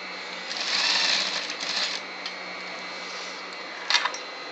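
Sewing machine stitching and tacking down a double piped besom pocket, a steady whirring run of stitches lasting about two seconds, then a brief short burst near the end, close and fairly quiet.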